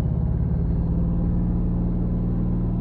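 A parked motorhome's engine is held at raised revs to charge a stationary battery through the alternator, producing a steady, close, low droning rumble with no change in pitch and no talking.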